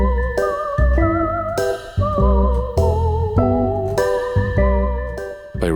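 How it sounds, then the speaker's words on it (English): Home station music track from a space video game: layered melodic instruments with tinkling bell-like tones and sustained chords, phrases restarting about every second, loud and continuous, no voices. "The other music track that has a specific behavior is the home station track"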